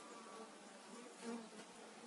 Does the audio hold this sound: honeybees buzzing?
yes